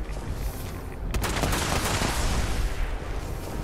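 Vampire shotgun fired in the video game Fallout 76: a sudden loud blast about a second in, then sustained dense booming and crackling gunfire for a couple of seconds, fading into a rumbling roar.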